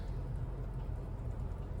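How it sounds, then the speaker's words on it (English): Water runs steadily through the sunroof drains of a 2010 Lincoln MKS, a constant close rushing wash with no breaks and no voices. "Here comes some water."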